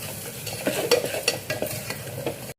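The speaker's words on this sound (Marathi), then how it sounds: "आता हे मसाले घालायचे आणि मिक्स करून घेऊया मसाले चांगले याच्यात." A spoon stirs spices into fried onions in hot oil, giving a soft sizzle with a quick series of scraping strokes and light clicks, close and brief, without talk.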